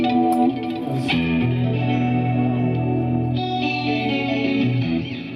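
An electric guitar played through a Roland Dimension D, heavily chorused and compressed and washed in reverb, holds shimmering sustained chords at a steady level.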